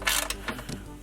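A ratchet clicks in short bursts while tightening valve cover bolts on a Ford F100 engine, a few quick close metallic ratcheting strokes with brief pauses, no voices.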